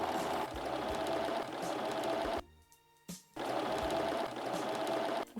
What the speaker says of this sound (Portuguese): Quando começa a costurar, dá retrocesso na máquina.